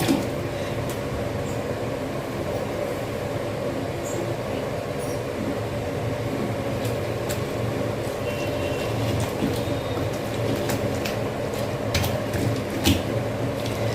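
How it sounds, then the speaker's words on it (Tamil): Cooked spinach greens being churned by hand with a wooden churner, a continuous low rubbing and squishing with scattered sharper knocks and clicks, steady and close throughout. "இப்போ நம்ம கடைஞ்சிடலாம் சூட்டோடு கடைஞ்சிங்கன்னா ஈஸியாக கடையலாம்"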